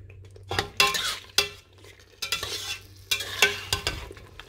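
A spoon scraping and clinking in a pan while green chilies and fresh coriander are stirred into hot oil with curry leaves, irregular close metallic taps over a soft sizzle.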